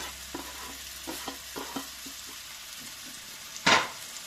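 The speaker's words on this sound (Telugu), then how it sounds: "ఇప్పుడు ఉల్లిపాయలు వేసి ఫ్రై చేసుకుందాము." Onions frying in oil for an aloo curry, a soft sizzle with light scraping taps of a spoon, then one sharp clatter near the end.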